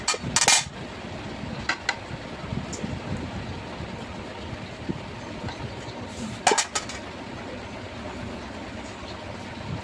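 Cooked rice served onto a plate with a metal spoon, two sharp clinks of utensil on dish standing out against a quiet, steady room background.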